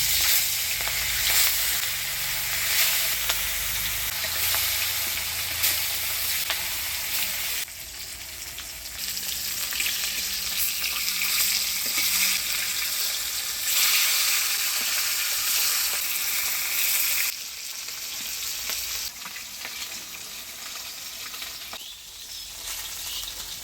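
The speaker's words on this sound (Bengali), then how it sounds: "এবার মাছগুলো ভেজে নিই।" Katla fish pieces sizzling in hot oil in a pan, a loud continuous crackle with occasional stirring and shifts in intensity, no talk.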